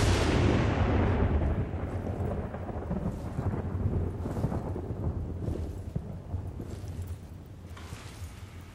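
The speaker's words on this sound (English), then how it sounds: "Wait for the thunder." Thunder rumbles in the video game Battlefield Bad Company 2, with a heavy crack up front that rolls into a long, loud, low rumble lasting several seconds, carrying rain-like texture and no talk.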